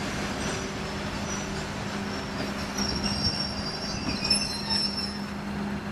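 A train rumbles past with a steady low drone and metallic wheel squeal running throughout, fairly close and continuous.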